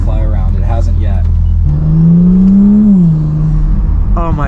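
Tuned Audi S5 Sportback turbo engine pulls up loud and steady for a couple of seconds, a rising rev with a sustained tone, after talk over a lower engine rumble at the start.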